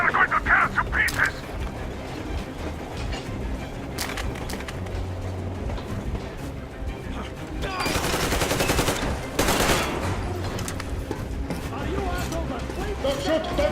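Gunfire in Metro Exodus, a sustained stretch of rapid shots and bursts with louder volleys in the middle, mixed with shouting voices.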